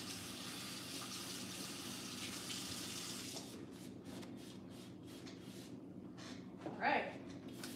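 A small paintbrush is rinsed under a running tap at a sink, the water flowing steadily and fairly loud for the first few seconds, then giving way to softer splashes and a brief gush.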